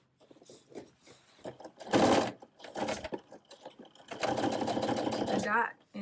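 A sewing machine stitches fabric for a clutch purse in two runs, a short burst and then a longer steady whir, with quiet rustling and handling between them.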